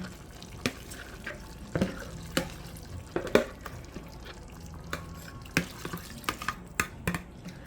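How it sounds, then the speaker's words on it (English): A cup of water poured into a pot of jerk beef stew to rinse out the seasoning, with sloshing, dripping and scattered sharp clinks of a utensil against the pot, close by and without talking. "You're just gonna pour a cup of water"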